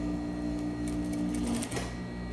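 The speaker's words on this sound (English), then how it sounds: "you're going to go in the machine and we're going to sew again" Sewing machine stitching a bodice seam, a close, steady mechanical whir with a sustained hum that runs without pause and slows briefly near the end, with no talking.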